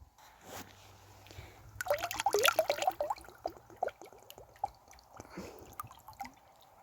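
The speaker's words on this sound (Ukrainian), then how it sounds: "І тому виливаю розчин" Liquid fertilizer solution is poured onto garden soil where garlic is being planted, giving a close gurgling splash and trickle that swells for a couple of seconds, then thins into scattered drips.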